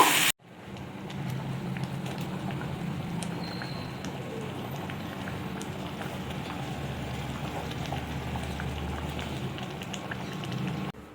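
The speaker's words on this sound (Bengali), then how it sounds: "খিচুড়িটা হচ্ছে, এই যে দেখতেই পাচ্ছেন বেশ ভালো হচ্ছে, এখন ফুটছে" Rice and lentil khichuri with potatoes boils in a pot during a home Saraswati Puja cooking session, giving a steady close bubbling hiss for about ten seconds with no talk.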